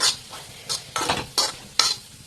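Dried gourd peel mixture stirred and fried in a pan, with about six scraping strokes of the spatula in an uneven rhythm over a soft, steady sizzle. The sound is close and moderately loud, and nobody speaks.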